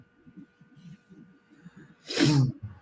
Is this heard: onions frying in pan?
no